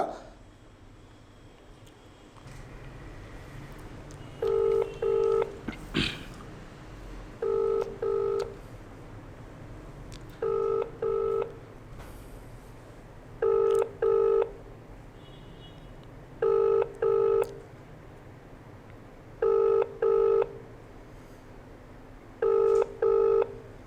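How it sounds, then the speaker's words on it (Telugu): A phone call to a school principal rings out, with a repeated ringback pattern of paired electronic tones sounding about every three seconds over faint background hiss. "ప్రిన్సిపల్ గారికి ఫోన్ చేసే ప్రయత్నం చేద్దాం"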